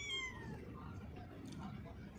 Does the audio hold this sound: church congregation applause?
no